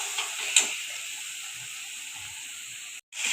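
A soft, steady sizzle from chopped chili going into a pan of frying spices and tomato while cooking pasta, faint and continuous, with a couple of small clinks early on and a brief cut near the end.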